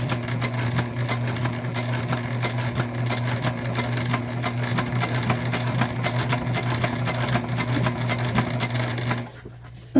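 A sewing machine drives steadily through a thick section of vinyl for a book bag tote, a close, continuous rhythmic hum with rapid needle clatter for about nine seconds before stopping abruptly.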